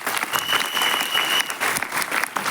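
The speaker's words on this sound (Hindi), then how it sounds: "जोरदार ताली उनके लिए थोड़ा बजाइए" A seminar audience in Ayodhya gives the sponsors a burst of enthusiastic applause. Dense clapping rises and falls in waves, with a thin steady tone humming faintly beneath it.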